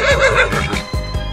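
A horse gives a loud, close whinny, a single short wavering neigh that fades out quickly.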